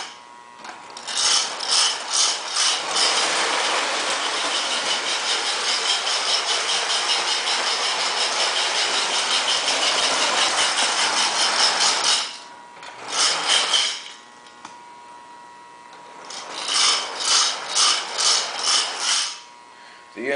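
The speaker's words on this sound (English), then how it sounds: "that's the chugging sound of steam Lionel tender" A plastic Lionel 2-4-0 scout-type toy steam locomotive running on DC power makes a steady, loud mechanical chugging and whirring that runs for about twelve seconds, pauses, then returns in short rhythmic bursts.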